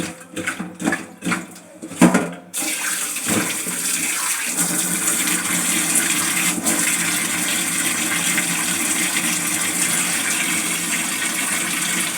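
Tap water running steadily while stingingi catfish are washed, a loud continuous rushing gush after a few short splashes and clatters at the start, with no talking.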